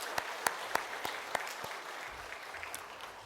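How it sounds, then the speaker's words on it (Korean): A church congregation claps during a Sunday Easter service, with sharp, evenly spaced hand claps standing out over a softer wash of scattered applause that fades toward the end. "우리 하나님께 박수를 드리겠습니다"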